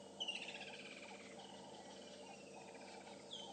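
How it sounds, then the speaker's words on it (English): Several birds give thin, high alarm calls on a morning safari drive at Djuma Game Reserve, repeated chirps and descending whistles over a steady low hum of insects and a vehicle, with no talking. "A lot of birds are now starting to alarm."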